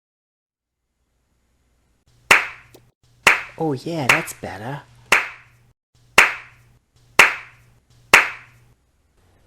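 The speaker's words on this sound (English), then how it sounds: "could just add in a clapping sound" Sharp single claps repeat in a slow, evenly spaced series inside the Scrap Mechanic video game, loud and crisp against a low hum, with a short spoken phrase breaking in between the early claps.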